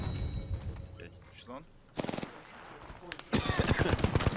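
Gunfire in a multiplayer shooter video game, bursts of rapid automatic fire around two seconds and again from three and a half seconds, with quieter game sounds between.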